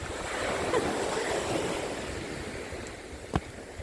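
Rough Atlantic Ocean waves wash and hiss in a steady broadband roar, moderately distant, with a brief thump near the end.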